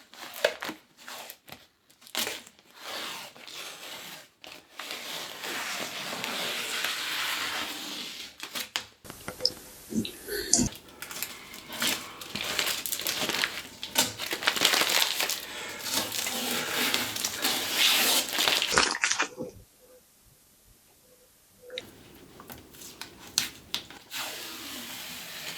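Old tape is peeled off a screen printing platen, giving a long, close run of crackling, ripping and crinkling with short pauses and a brief quiet gap near the end before the tearing resumes.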